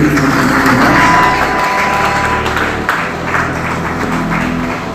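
Church congregation applauding and cheering to acclaim the Lord, a dense, loud wash of clapping and crowd noise that stays steady throughout with no clear speech on top.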